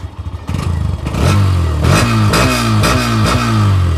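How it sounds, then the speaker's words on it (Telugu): A Hero Xtreme 125R motorcycle's exhaust note starts from a putter and then rises through several quick throttle revs, each climbing and falling back. The sound is loud and close, with no one talking. "ఈ ఎగ్జాస్ట్ నోట్ అయితే ఒకసారి విందాం"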